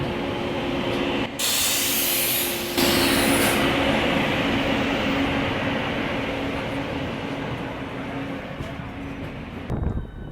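A train departs from Gwalior station with a broad, steady rumble and hiss close by, a loud blast of air partway in, and the rolling noise fading slightly toward the end.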